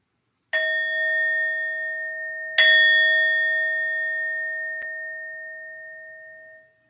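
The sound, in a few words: meditation bell ringing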